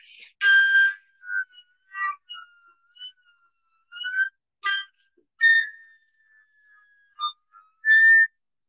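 High flute harmonics from a flute fitted with a Glissando Headjoint, played in the upper register: whistle-like tones come in short separate bursts, some sliding in pitch, with silence between them.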